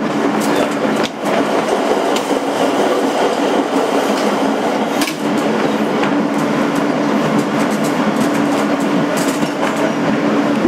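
Interior rumble of a 2008 Kawasaki R-160B subway car, #8842, running as a Court Street-bound N local on the BMT Sea Beach line: loud, continuous rolling roar with faint wheel clatter and a couple of brief knocks.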